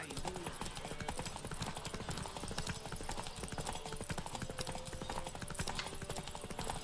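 Rapid, steady hoofbeats of a galloping horse in The Witcher 3: Wild Hunt over a dense wash of game music and effects, continuous throughout.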